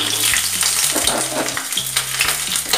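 Peanuts fry in hot oil in a kadai with a loud, dense crackling sizzle and a few stirring clatters, close and continuous with no voices.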